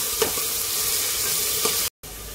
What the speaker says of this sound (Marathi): हा कांदा आता आपल्याला चांगला फ्राय करून घ्यायचा आहे।